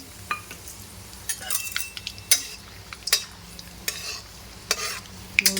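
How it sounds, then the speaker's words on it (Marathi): Peanuts for poha fry in hot oil in a kadai, a steady sizzle under repeated scraping and clinking strokes of a spoon stirring the pan, close up and with no talking. "ते करून आता ते शेंगदाणे मस्तपैकी परतून घेणार आहेत किंवा तळून घेणार आहे"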